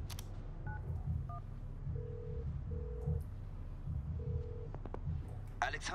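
Phone keypad tones dialing a number in the FIFA 19 video game, several short DTMF beeps in a quick irregular sequence over a steady background music bed.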